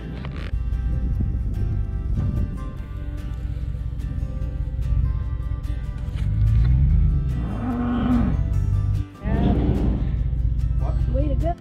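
A cow being loaded for the butcher moos in long, low calls twice around the middle, over a continuous low engine rumble, while people talk and call out.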